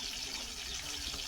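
Water being drained off a pot while cooking in a home kitchen, a steady, even splashing pour that runs continuously, moderately close and fairly quiet.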